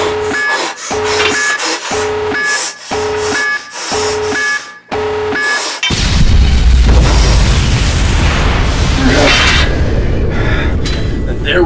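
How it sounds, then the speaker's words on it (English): A tactical nuke explosion sound effect: a run of repeated electronic warning beeps gives way to a huge, sustained roaring blast that fills the remaining seconds, loud and close. "Tactical nuke incoming!"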